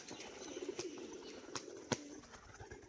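A pigeon tossed high by hand for a display flight, with a few sharp wing claps at intervals over soft cooing and outdoor background noise.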